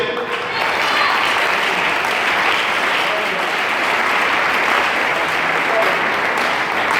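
A church congregation applauds to acclaim Jesus, dense and steady clapping from a large crowd that stays loud and unbroken throughout.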